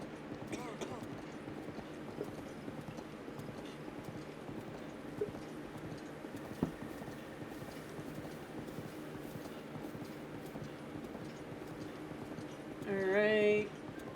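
Horse hooves clip-clop at a steady walking pace in Zelda: Breath of the Wild, a continuous soft rhythm under game ambience, with a brief louder tonal burst near the end.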